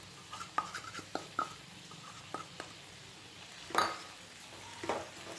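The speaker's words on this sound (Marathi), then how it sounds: "सर्व एकत्र हलवायचं आहे" A spoon scrapes and taps through a pan of ghee residue, the browned solids left after clarifying butter, mixed with other ingredients in a home kitchen, giving scattered clinks and scrapes at moderate distance with no voices.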